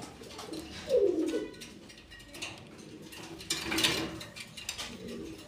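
Afsan Girizel pigeons, a pair of racers, coo softly twice with a short gap between calls, moderately close against a faint rustling background, with no talking.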